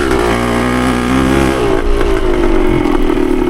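A Yamaha CT3 175 motorcycle engine runs loud and close with a steady throbbing drone. Its pitch dips slightly partway through as it keeps idling or cruising, and no one speaks.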